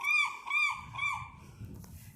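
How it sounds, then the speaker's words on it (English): Young seagull giving three loud, drawn-out nasal calls in quick succession, a little wind or rustling noise underneath. "That's a baby seagull."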